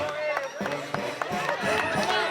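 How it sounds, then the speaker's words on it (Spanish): Wedding guests in Pachamarca clap in steady time as an orchestra plays the Blue Danube waltz, the crisp claps landing on the beat over the sustained music and a murmur of crowd. "Ahora vamos a acompañar con palmas."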